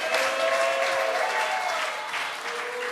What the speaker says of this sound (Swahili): So let us applaud the angels for helping us.